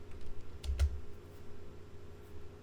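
Keys click on a computer keyboard while entering values in Rhino, a few quick, close taps clustered together over a faint steady background hum.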